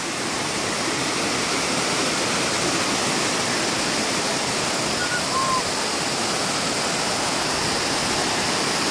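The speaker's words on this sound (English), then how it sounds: "Let's take a look at the secondary waterfall here." Secondary waterfall in Ranomafana National Park, Madagascar, pouring in a steady, dense roar of broadband rushing water that stays close and loud without pause from start to end.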